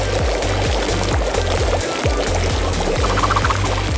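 Hot water pouring from a kettle, a continuous close gurgling stream with a steady, even pulse, loud and alone.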